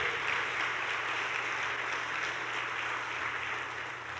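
A church congregation claps together in steady, even applause that stays fairly constant throughout, heard at a moderate distance and easing slightly toward the end.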